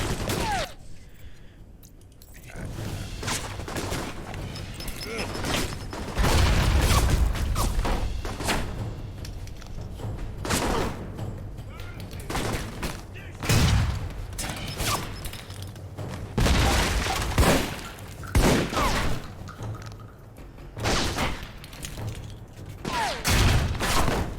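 Heavy gunfire in a raging gun battle in the game Alpha Protocol, with repeated loud bursts and thuds at a dense, irregular rhythm over the whole stretch.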